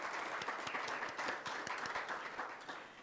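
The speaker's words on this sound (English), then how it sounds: "Could we give Zambia another round of applause?" Fairly quiet, scattered applause from delegates at a SADC regional prosecutors' meeting for the Zambia delegation, with distinct individual claps in an uneven rhythm that carries on steadily.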